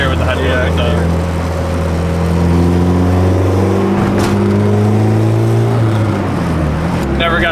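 Engine of a 500 WHP turbocharged Honda Civic on the street, a steady loud drone with shifting tones as it revs and the turbo spools, heard from inside the car with a voice talking over it.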